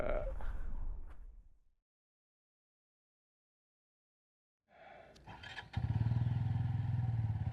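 Off-road motorcycle ridden on a rough trail, with loud engine roar and clatter at the start, a gap of silence, then the engine revving back up and holding a steady, close drone.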